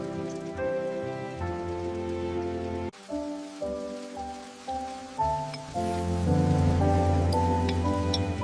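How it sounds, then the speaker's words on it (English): Forest rain patters as a quiet, even wash under calm melodic music that shifts chords and briefly dips midway. No speech. "There is a stillness that comes with the rain."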